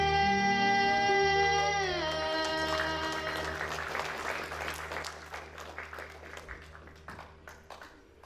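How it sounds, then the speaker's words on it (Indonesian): After a sustained sung note and music end at a live performance, the audience breaks into applause that starts strong and gradually thins into scattered, fading claps. "Kan sekali lagi kasih tepuk tangan buat anak-anak kita."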